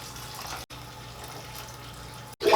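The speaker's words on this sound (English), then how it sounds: "I'm just gonna dip a cup in there." A cup dipped into a bucket of water collected from a basement dehumidifier, giving soft watery sloshing and trickling, fairly quiet and close, ending with a brief louder splash.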